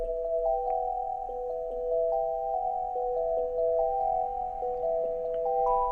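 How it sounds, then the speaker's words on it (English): A bright, clean bell tone plays a short repeating melody over a soft, steady low pulse, with no voices. "So the bell sounds like this."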